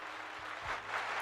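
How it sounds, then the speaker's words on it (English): Brief burst of audience applause, a short spread of clapping at moderate level with no talking over it. "All right, let's give Squatch a big old round of applause."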